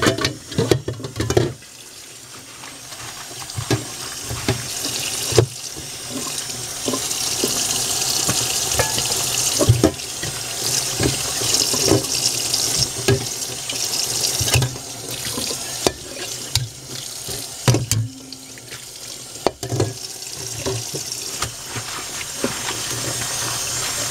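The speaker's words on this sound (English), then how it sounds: "You need to wash the leaf thoroughly" Tap water runs steadily into a kitchen sink while mulberry leaves are rinsed, a continuous close splashing wash broken by a few louder knocks and splutters, with no voices over it.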